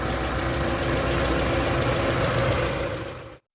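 A steady, low mechanical hum of an idling Mitsubishi Triton engine with a hydraulic valve setup runs evenly throughout, then cuts off abruptly near the end.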